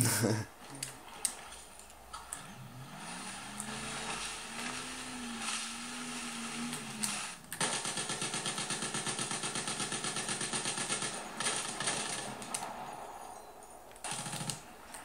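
A boat engine in Battlefield 3 idles and then revs into a loud, rapid rattling drone, with rising and falling engine pitch and a voice talking intermittently over it.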